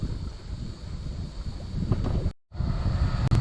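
Wind buffeting the deck of a sailboat, a loud rushing roar of microphone wind noise with gusty swells and one abrupt dropout partway through.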